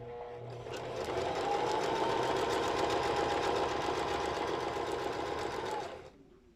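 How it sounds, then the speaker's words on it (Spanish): Sewing machine stitching lace onto bias binding, one steady, close whirring run with a fast even mechanical chatter lasting about five seconds before it winds down and stops. "ahora sí sujeto y voy cosiendo estirando solamente esa"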